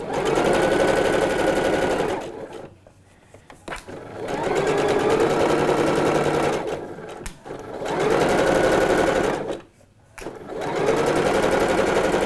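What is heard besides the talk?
sewing machine stitching washed linen shorts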